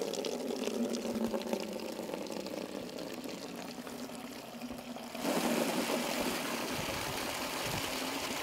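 Water sprays from a hose or pump with a steady hiss that suddenly grows louder and fuller partway through, then keeps running with no voices over it.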